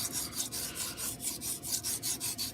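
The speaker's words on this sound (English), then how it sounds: "Focus on sharpening the tip some." A blade's tip is drawn across a sharpening stone in quick, regular rasping strokes, about a dozen close, quiet scrapes in steady rhythm with no talk.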